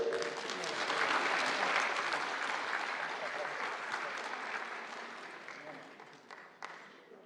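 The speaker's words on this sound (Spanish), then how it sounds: "Un fuerte aplauso, por favor." An audience at a labour procedural law congress applauds steadily for several seconds, a dense sustained clapping that slowly tapers off.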